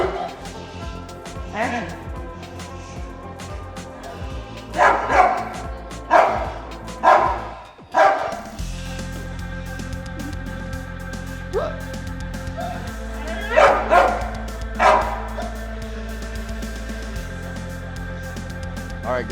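A Presa dog named Bjorn barks in loud, repeated bursts during protection bite work, a cluster around the middle and another later, over a steady background hum with voices in the mix.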